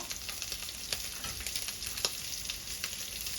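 Thai fermented pork (naem) stir-fried in a pan until golden, a steady close sizzle with light scraping stir strokes and a few sharper clicks, no voices.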